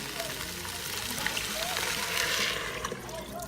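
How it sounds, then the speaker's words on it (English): Water pours steadily into a pot while making smoked sausage and chicken gumbo, a continuous splashing rush lasting a few seconds at close range. "I'm going to use 4 cups of water first."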